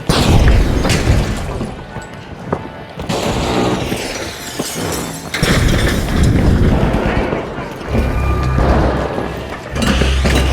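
A grenade blast in the video game The Finals, a loud booming explosion with shattering debris amid continuous heavy gunfire and combat noise, with game voice callouts over the top.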